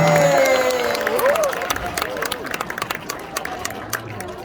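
A crowd at a lecture gives a short round of applause and cheering, loud at first and then thinning to scattered claps, with a sustained tone fading underneath.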